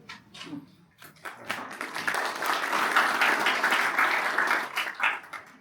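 An indoor audience at an anniversary event applauds its store managers, a few scattered claps swelling into sustained, even clapping that holds steady before starting to taper.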